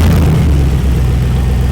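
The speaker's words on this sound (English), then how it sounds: "We've just turned the ignition key and it's up and running" An Oldsmobile Rocket 88 engine running on a workshop bench just after its ignition key is turned, a loud, steady, close-up rumble with no break.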